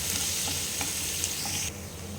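Finely chopped onion fries in a pan of butter and oil with a constant close sizzle and occasional stirring clicks, the hiss dropping slightly near the end with no voices.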